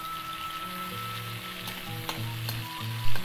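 Ingredients frying in a pan until they wilt, a steady close sizzle with soft stirring scrapes and occasional utensil taps, no voices.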